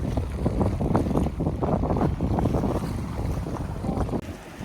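Catalina 30 sailboat on Lake Pend Oreille sailing close-hauled into the wind, with steady loud wind buffeting the microphone and water rushing along the hull throughout.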